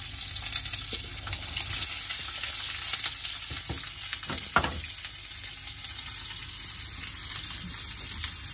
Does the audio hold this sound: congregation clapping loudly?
no